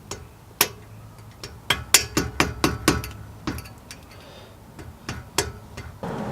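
Sharp metallic taps from a hammer and punch driving brake pad pins out of a Lexus RC F front brake caliper, a quick series of about a dozen close, ringing strikes in uneven bursts with brief pauses between.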